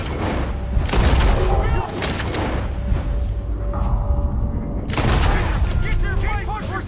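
Gunfire in Red Dead Redemption II erupts in dense, booming volleys during a western shootout, with bursts up front, a lull of scattered reports, then renewed heavy firing alongside game voices.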